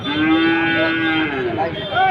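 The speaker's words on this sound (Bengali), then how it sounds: "তো একটা বাছুর দেখাচ্ছি দেশি বাছুর" Close by at a cattle market, a red-brown desi calf lets out a sustained, bawling moo that wavers and fades into softer, uneven calls toward the end, with no voices over it.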